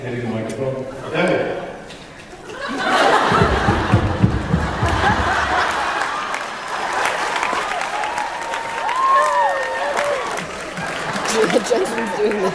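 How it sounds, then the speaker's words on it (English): Audience at a Vegas fan-convention main panel claps in a loud burst that swells and fades, mixed with scattered laughter, chatter and voices speaking over the crowd. "Can I teach you a way to clap without hitting the microphone?"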